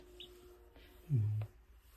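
A single short, high chirp from a chicken chick hatching from its egg, faint and close, over a quiet background hum.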